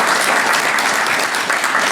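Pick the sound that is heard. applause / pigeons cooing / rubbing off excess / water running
applause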